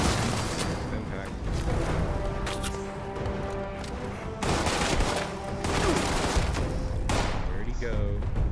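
Gunfire in the video game Fallout 76, aimed at a Grafton monster: heavy, continuous shooting and booming bursts that rise and fall in waves, with someone talking over the fight.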